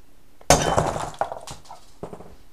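A hammer strikes a cup, giving a sharp close clink followed by rattling, then two more quick lighter knocks a moment apart.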